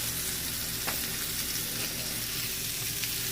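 Sausage and mushrooms fry in a pan with a steady, dense sizzle throughout, close and fairly loud, with faint stirring clicks now and then and no voices.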